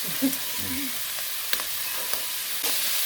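Beef and chillies stir-fry in a hot pan as a steady sizzle, with scattered clicks and scrapes from stirring. The sound stays fairly close and even, and no one talks.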